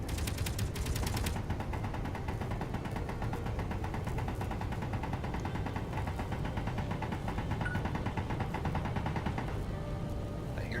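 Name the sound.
turret gunfire in video game Space Engineers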